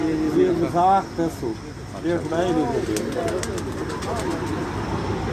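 A pigeon coos close by in soft repeated warbling calls on a rooftop loft, mixed with someone talking and steady outdoor background noise.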